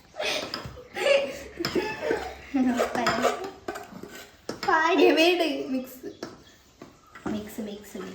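Cake batter being mixed with a folding method in a large bowl, giving soft scraping and clinking of utensil against the bowl, close by, with people chatting and laughing over it.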